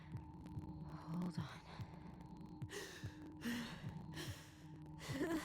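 Panic attack breathing from a character in the narrative video game Tell Me Why: strained gasps and sighs recur over a low, steady heartbeat-like throb, with sharper bursts of breath partway through and near the end.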